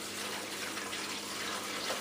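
Brine water, about 1.5 gallons mixed with brine seasoning, poured into a turkey brining bag, a steady rushing splash lasting a couple of seconds, close and continuous.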